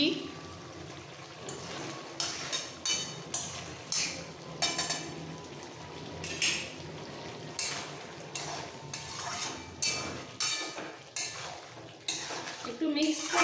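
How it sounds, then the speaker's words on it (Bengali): Stirring a soybean, potato, pointed gourd and pumpkin curry in a pan, with repeated scraping and clinking strokes of a spoon against metal coming in uneven bursts, and a faint voice in the background. "মাখো মাখো হওয়া পর্যন্ত একটু নাড়াচাড়া করে নামিয়ে ফেলবো"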